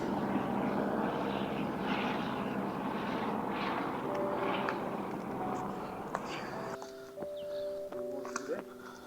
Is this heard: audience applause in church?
no